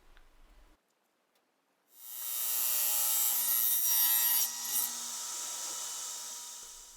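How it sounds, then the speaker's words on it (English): A hand saw cuts away excess cherry spline glued with epoxy into an Ipe frame corner, a steady close rasping stroke that starts after a brief knock and quiet pause and runs continuously to the end. "I use the saw to remove the bulk of the spline excess."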